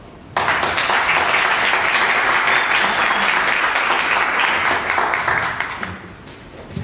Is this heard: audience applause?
yes